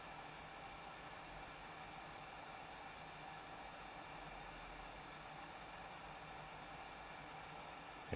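A Pro'sKit SS-969 hot air SMD rework station blows a faint, steady airflow hiss, even and continuous, ending with a brief louder bump at the very end.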